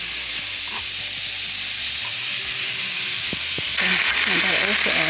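Finely cut potatoes and cabbage sizzle in a hot pan with a steady frying hiss, a few clinks and stirring knocks, and the sizzle swells louder near the end as more food lands in the pan.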